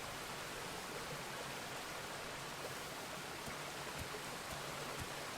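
Steady broadband rush of a waterfall in the video game Forgotten Hope, a constant even wash of falling water with faint soft ticks scattered through it, alone with no voices.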